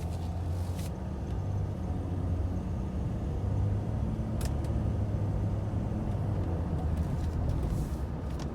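A Ford F-150 pickup with a 3.0 diesel engine cruising at light throttle, a steady low rumble with road and cabin noise, even in level throughout, with no talking.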